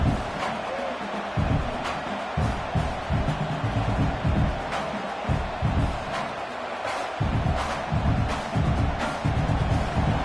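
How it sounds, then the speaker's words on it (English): A fired-up football stadium crowd at an OSU vs CU game keeps up a dense, loud roar, with surges of cheering and sharp bangs rising through the noise. "It's early, but this crowd is fired up. Listen to this noise here."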